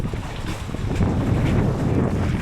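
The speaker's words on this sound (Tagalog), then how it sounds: "Lumalakas na rin yung hangin" Strong wind roars steadily across open water, buffeting the microphone with a constant rushing noise and no voices.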